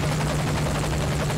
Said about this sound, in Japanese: ヘリに乗って潜入開始ポイントに移動します